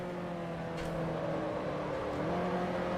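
Engines of 1966 Formula 1 cars in Grand Prix Legends give a steady, droning, harmonic note as the cars run close together, with a brief whoosh partway through.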